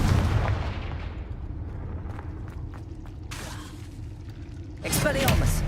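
Confringo fire spell blast in the Hogwarts Legacy video game: a sustained roaring rush of game action throughout, with a sharp bright burst near the end, under a speaking voice.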